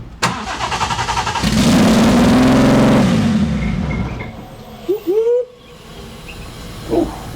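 A freshly built B58-powered BMW 340i fires up with a loud, close burst that swells for a couple of seconds, then drops to a lower rumble with a few short sharp chirps near the end.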